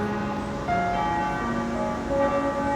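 Church bells in the diocese of Tournai, Belgium ring together in overlapping, sustained peals, their tones layering and resonating continuously.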